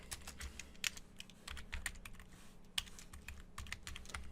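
Fingers tap quickly on a computer keyboard while entering console commands, an uneven close patter of keystrokes with a few louder presses and no voices.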